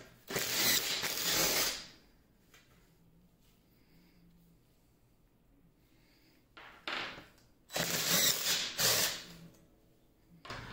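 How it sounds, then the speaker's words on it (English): Ratchet wrench loosening the bolts on a car seat's rails, heard in two loud bursts of rapid clicking near the start and end, separated by a quieter stretch with faint handling noise. "slide the rails to get access to the two bolts in front and remove those two as well"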